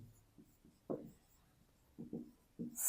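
A pen scratches across paper while a math problem is worked out, in short separate strokes with pauses between them, faint and close, with no one speaking.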